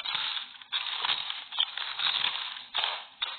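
Alcohol-infused licorice candies are broken apart with several loud, close crunching and crackling bursts, separated by short pauses, with no talking.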